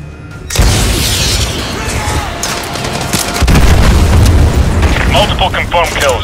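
Explosions from an AGM missile strike in Call of Duty: Modern Warfare 2 Remastered at a Russian naval base: a heavy booming blast hits, then a second deep rumbling explosion follows about three seconds later, with faint voice-like sounds near the end.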